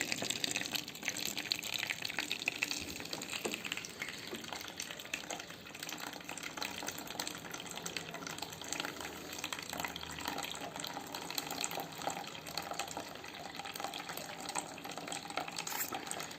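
Dirty water drains from a water dispenser during cleaning, a steady, faint, continuous trickling and splashing stream that runs alone without pause.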